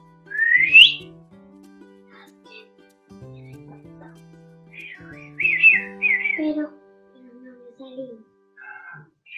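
A person whistles a series of rising and warbling bird-like notes in short bursts, imitating birdsong, with a low hum underneath.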